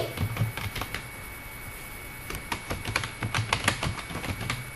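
Typing in MS Word on a computer keyboard: close, clicky bursts of keystrokes in quick runs, separated by a quiet pause, with no talk over them.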